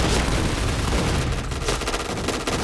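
An MX4 gun in a shooter video game fires a dense, continuous rapid-fire burst, loud and close throughout with no pauses.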